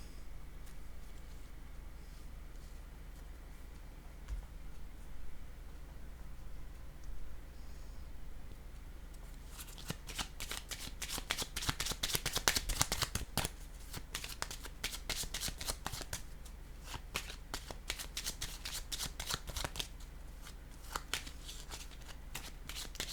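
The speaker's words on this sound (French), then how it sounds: "Je vais déposer une carte ici." Tarot cards are handled and laid down, giving a quiet, dry papery shuffle. It starts faintly, then becomes a dense run of rapid crisp flicks and taps in the second half, with no voices over it.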